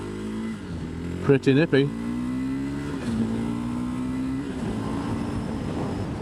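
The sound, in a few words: KTM 390 Adventure motorcycle riding at slow speed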